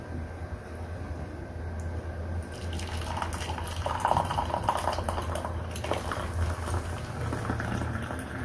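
Boiled fat-cutter drink water being strained after the gas is switched off, a soft bubbling hiss giving way to pouring and trickling liquid with small clinks, close and quiet with no talk.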